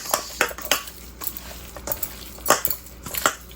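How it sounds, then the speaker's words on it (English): A utensil stirs rasta pasta ingredients in a pan, giving repeated irregular scrapes and clinks of metal against the cookware, close and fairly clear over a low steady background hum, with no talking. "Stir it up. We don't want browning on this, okay? Stir it up."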